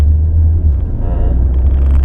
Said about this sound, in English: Going over some railroad tracks